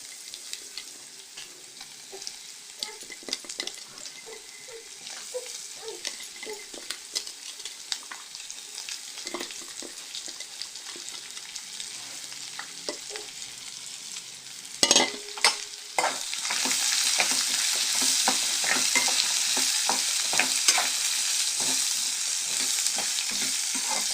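Radish going into a hot pan to sauté: quiet stirring and scraping at first, then a louder sustained sizzle with frequent spatula clacks, no talking.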